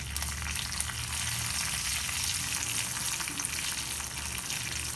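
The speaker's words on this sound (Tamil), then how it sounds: "இப்போ அடுத்தது காஞ்ச மிளகாய் போட்டுக்கலாம்." Dried red chillies sizzle and fry steadily in hot oil for a sundaikai gravy, a loud, continuous crackling hiss with occasional stirring, heard alone throughout.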